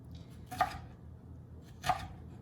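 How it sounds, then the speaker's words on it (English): A knife chops food into small bite-sized pieces on a cutting board, two distinct, crisp knocks about a second apart, close and clear against a quiet background. "we're just going to cut it into small bite-sized pieces"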